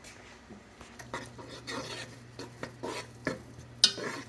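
Shallots and garlic sauté in a pot for a blue crab bisque, a soft sizzle under repeated scraping and stirring strokes and the odd clink of a utensil against the pot, fairly quiet and close.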